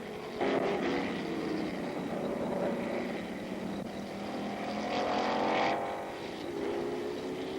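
Racing engines from a 1970s Grand Prix, with Jackie Stewart's March 701 chasing a Brabham, roar as a steady drone that swells and fades with passing cars, under heavy broadcast hiss and no talk.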